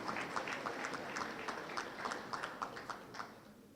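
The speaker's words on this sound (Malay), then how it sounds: "saya mohon satu tepukan yang gemuruh untuk Angkatan Muda Keadilan di Batu Pahat" A crowd applauds at a national party congress of PKR, the Malaysian political party: a rapid, steady patter of many hands clapping at moderate distance, with no one speaking over it.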